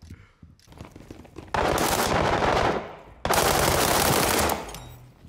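Rapid automatic gunfire from a gun in a video game, two loud sustained bursts of about a second each separated by a short pause, after a quieter stretch of scattered sounds.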